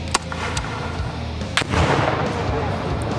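A rifle from a special-unit small-arms arsenal fires at a target, giving sharp, loud, close report cracks with two distinct shots a little over a second apart, followed by a lingering noisy rumble.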